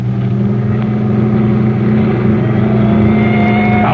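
A car engine accelerates hard in a getaway chase, steady loud mid-range roar climbing slightly in pitch over four seconds, close and continuous with no pauses.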